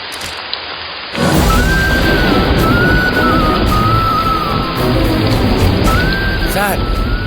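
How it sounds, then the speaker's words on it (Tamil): Heavy rain pours down steadily after a sudden start, a dense hiss that continues throughout, with a faint tonal sound over it, in a stormy outdoor scene from a Tamil TV serial. "மழை வேற அதிகமா பெய்யுது"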